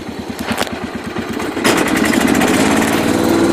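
A John Deere 210 lawn tractor engine drones steadily while towing another tractor, loud and close, with a rhythmic low pulse that thickens and grows louder midway through.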